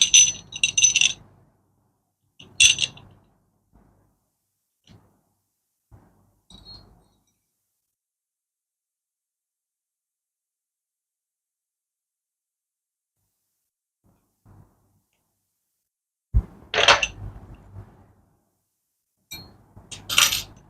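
Bathroom mixer faucet handle being fitted and tightened by hand, giving a few short clicking and rattling metallic bursts separated by long quiet gaps, close and fairly loud, with no talking.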